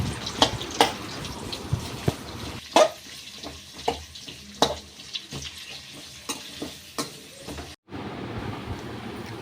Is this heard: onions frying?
yes